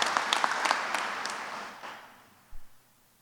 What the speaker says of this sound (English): let's have a round of applause for Mayor Bibb